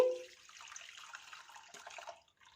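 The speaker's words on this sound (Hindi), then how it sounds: "अब इसे मोटी छलनी में छान लेंगे।" Boiled tamarind water for a street-style tamarind chutney is strained through a coarse sieve, giving a close, steady trickle and splash of liquid lasting about two seconds before fading out, with no talking.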